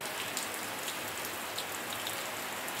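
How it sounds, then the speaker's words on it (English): Heavy pouring rain during the rainy season in Cochin, India, a steady dense hiss of downpour throughout at even loudness, with a sudden loud knock right at the end. "We were in Cochin during the rainy season, and it was just pouring."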